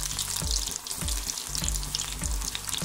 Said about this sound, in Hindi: अब उसका डीप फ्राई करेंगे।